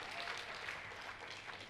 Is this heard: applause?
yes